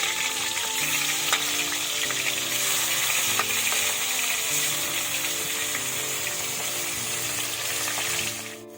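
Fish pieces fry in oil in a pan with a strong, steady sizzle and crackle. A low hum runs underneath, occasional utensil scrapes cut through, and the sizzle fades slightly at the close. No one speaks.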